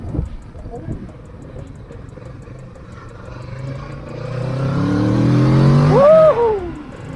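A Kawasaki 650 motorcycle being tested after a wiring repair idles low, then its engine climbs into a loud rising rev that peaks and briefly drops, close and powerful.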